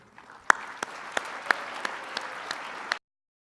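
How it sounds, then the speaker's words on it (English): Audience applause at a city State of the City address in Grand Forks, greeting a local musician opening the event; a few seconds of steady clapping with distinct loud claps standing out, ending abruptly. "another round of applause"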